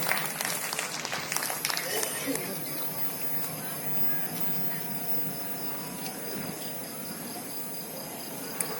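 Crowd at an outdoor inauguration ceremony clapping steadily, a broad continuous patter with a high insect-like buzz over it, fairly constant loudness throughout, with a voice briefly heard.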